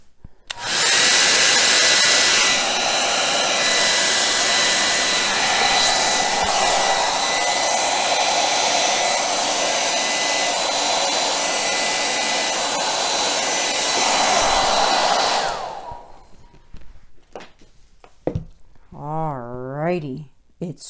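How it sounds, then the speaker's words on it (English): A hair dryer blows air onto acrylic paint for a Dutch pour, a loud, steady close roar running for about fifteen seconds before cutting off, followed by a person talking. "So I always blow in the middle."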